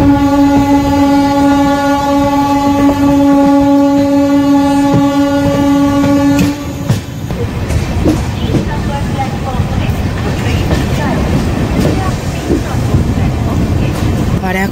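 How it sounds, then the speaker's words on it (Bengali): Kolkata Sairang Express running at speed as a local train passes on the adjacent line near Barrackpore: a loud, steady rumble with sustained horn tones for the first seven seconds, then a dense clattering roar of passing carriages. "আর একই সঙ্গে ক্রসিং হলো একটি লোকাল ট্রেনের।"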